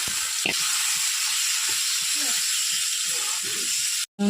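Raw chicken pieces hit a hot pan and sizzle in a steady, close, bright hiss that runs unbroken for about four seconds, with a quiet voice faintly underneath before it cuts out abruptly.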